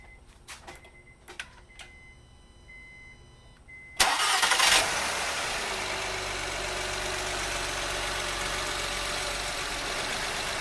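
A 2008 Honda Odyssey with a swapped J35Z2 RDX V6 cranks briefly after a few clicks, then catches with a loud flare and settles into a steady close idle with a slight misfire.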